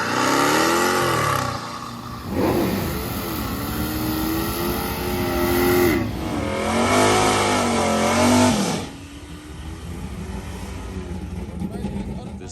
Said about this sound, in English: If you want to burn out like this